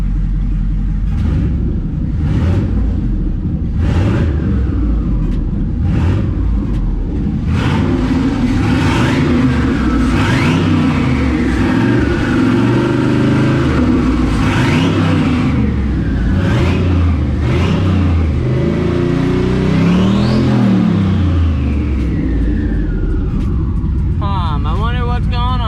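A pickup truck engine rumbles and swells as gas is applied, rising and falling in repeated revs while someone talks over the engine noise.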